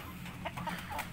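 Indo Gigante chickens let out to range freely outdoors give a few soft, brief clucks, faint and somewhat distant over low background noise.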